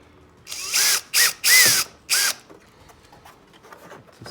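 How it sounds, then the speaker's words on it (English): A power drill bores a pilot hole through a plastic HMWPE skid plate under a 2019 Can-Am Outlander Max XT, giving four loud whining bursts of varying length close by, followed by quieter handling noise. "we're gonna drill a pilot hole straight through the plastic"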